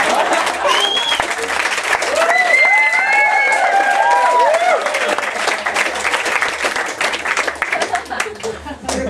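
An audience at a live comedy show at Anseo bursts into sustained clapping with some cheering and whoops over it, loud and close, gradually thinning toward the end.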